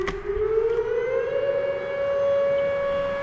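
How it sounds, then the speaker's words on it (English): A civil defense emergency warning siren wails steadily at a distance, holding a sustained tone that slowly rises in pitch, with no voices. "do you know what you're supposed to do if an emergency siren goes off?"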